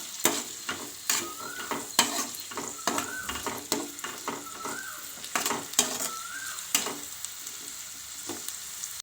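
Onion stir-frying in a pan for restaurant-style Schezwan fried rice: loud, close sizzling with rapid, repeated scraping and clanking of a spatula against the pan, alone without voices.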